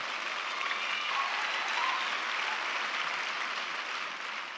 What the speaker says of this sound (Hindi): उनके लिए एक बार बहुत जोर और तालियां होनी चाहिए, जोरदार